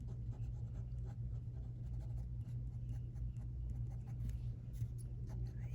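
A Sakura Pigma Micron pen scratches softly across paper in quick, short strokes, faint and close, over a low steady background hum.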